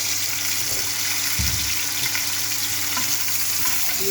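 Cauliflower frying in a pan at home, a steady close sizzle running throughout with a few soft clinks and stirring touches, and no talk.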